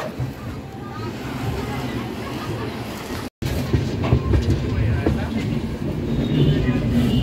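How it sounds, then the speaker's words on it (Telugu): An Intercity superfast express, the Lingampalli–Vijayawada 12796, rolls on after departing Guntur Junction with a steady loud rumble and faint rhythmic wheel clatter, heard from inside a coach with a brief dropout midway. "గుంటూరు జంక్షన్ నుంచి అయితే మన ట్రైన్ బయలుదేరిపోయింది."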